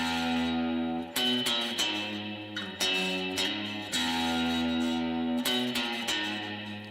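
An electric guitar recorded with only the front microphone plays a sequence of sustained distorted chords, each struck attack ringing out loudly before the next, with no voices.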